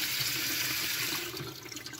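Water running strongly from a faucet after its clogged aerator screen was cleaned, a steady close-up splashing rush into a sink that eases slightly toward the end, with no talk.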